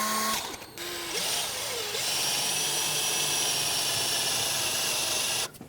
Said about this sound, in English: so I'm hopefully going to drill straight down